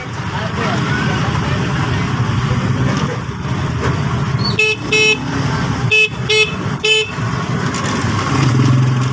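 Busy road traffic on Tullahan in Valenzuela, a constant rumble of cars and motorcycles, cut through by several loud, close honks of vehicle horns in the second half.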